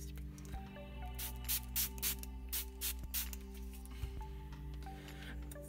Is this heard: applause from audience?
no